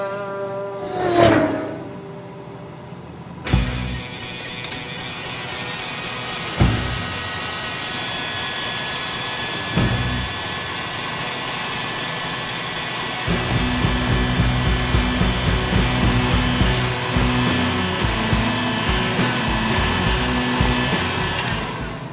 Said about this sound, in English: take your heat shrink tubing and slide it over that connection you made, and then take your heat gun and heat it up